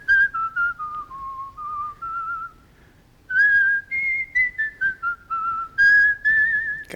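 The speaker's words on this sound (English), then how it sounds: "He's a good whistler." A man whistles a tune in the 1946 Sherlock Holmes film Dressed to Kill, clear and close, phrases of wavering melody broken by a short pause before the melody resumes.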